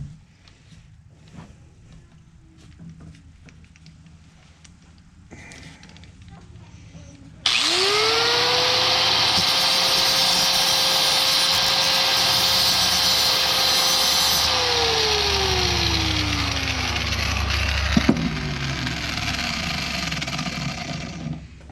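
A handheld grinder cuts into a Ford steering column, starting abruptly and holding a loud, steady whine for several seconds before its pitch sags as it spins down; quieter workshop noise comes before it.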